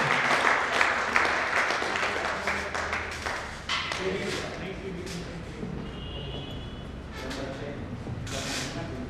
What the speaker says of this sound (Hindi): तालियां, जोरदार तालियां